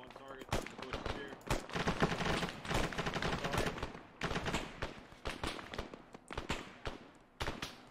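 Gunfire from the military shooter game ARMA 3 cracks in dense, rapid, overlapping bursts throughout, mixing single shots and automatic fire. Voices are partly mixed in with the shooting.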